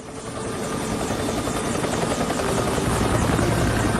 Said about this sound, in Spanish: Hay que traer helicópteros.